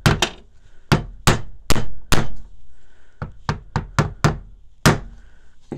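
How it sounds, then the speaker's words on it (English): Sharp hammer blows drive a piece of a wooden birdhouse into place, about a dozen loud, close strikes in uneven bursts with short pauses, and no talking. "and hammer it in."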